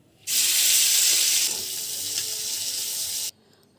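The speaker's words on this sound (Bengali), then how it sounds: "চিংড়ি মাছগুলো ভেজে নেব।" Prawns hit hot oil for a Bengali echor chingri dish, a loud, steady hiss of frying that starts suddenly, holds for about three seconds, then cuts off.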